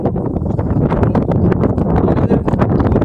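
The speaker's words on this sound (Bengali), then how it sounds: "এখানে বিশাল হারে হাওয়া চলছে যার জন্য ঠান্ডা এতটাই বেশি" Strong wind at Nathula Pass on the India-China border in Sikkim roars continuously, buffeting hard against the microphone in a loud, gusty rumble with no pauses.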